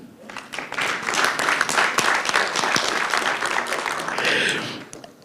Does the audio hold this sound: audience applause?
yes